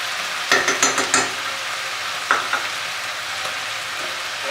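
Prawns coated in Schezwan sauce with vinegar are stirred in a hot pan, a continuous sizzle with a quick run of four or five spatula scrapes and clacks, then one more later.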